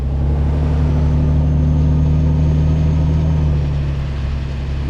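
Cab interior of a Volvo FH 2013 truck in Euro Truck Simulator 2, a steady loud low diesel drone with a constant engine hum, running alone without talk.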